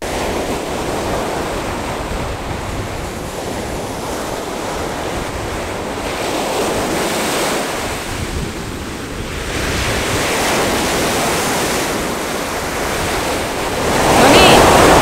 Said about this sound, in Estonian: lained on võimsad